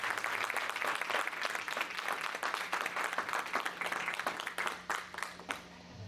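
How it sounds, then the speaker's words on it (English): Applause from an audience at a funding and inclusion talk, dense continuous clapping for about six seconds, loud and close, thinning slightly toward the end. "can we give a round of applause for our families here?"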